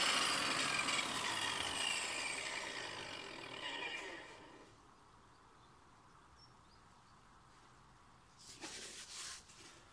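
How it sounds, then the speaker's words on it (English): Grooves being sawn into a sheet of plywood to help it bend, heard as steady close rasping cuts for about four seconds, then a quiet pause and a brief burst of sawing near the end. "I've started cutting the grooves so that this piece of plywood will bend a little bit easier."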